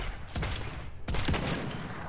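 Realm Royale gunfire rings out as two loud bursts of rapid shots with a rumbling tail, dense and close in the game's combat mix.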